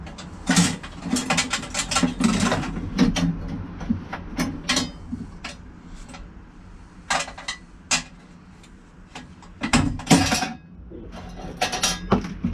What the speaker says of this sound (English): I'm going to undo these two latches. They're quite explosive.